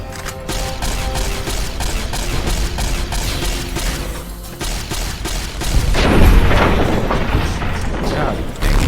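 Rapid gunfire blasts in Fallout New Vegas come as a dense, loud, continuous barrage of shots and booms, with a voice talking over the fighting throughout.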